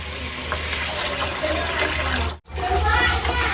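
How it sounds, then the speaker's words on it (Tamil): Tamarind water pours and splashes steadily into a pan, a continuous gushing rush broken by one brief pause. "இதுக்குள்ள வந்து நான் புளி தண்ணி ஊற்றிக்கிறேன்"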